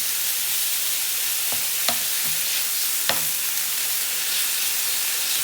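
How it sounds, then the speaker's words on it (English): Full frying pan of minced meat browning, a steady loud sizzle and hiss with a few scraping stirs of a utensil against the pan. "takes longer for the mince to brown because the pan is full"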